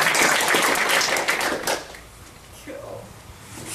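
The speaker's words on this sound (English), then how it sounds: "let's just give one final round of applause." An audience applauds after a talk about the San people and their plants, dense close clapping that thins out and fades within a couple of seconds, with a faint voice afterward.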